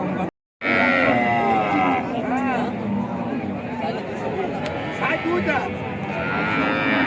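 Cows at the Sharatnagar cattle market moo several times in long, wavering calls over the constant chatter of a crowd of traders talking nearby.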